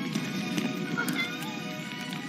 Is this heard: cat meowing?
yes